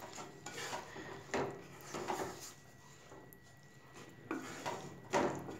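Ratlami sev being stirred into tomato sabzi in a pan: quiet intermittent scrapes and clinks of a spoon against the pan in soft bursts, no sizzle to speak of.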